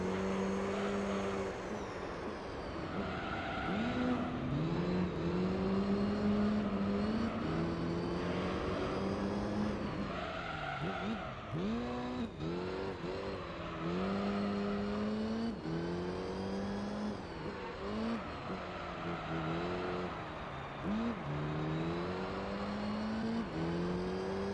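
A four-wheel-drive car engine in the video game Gran Turismo 3 revs up and down through repeated gear changes, its rising and falling tones sustained loudly across the whole stretch, with no speech.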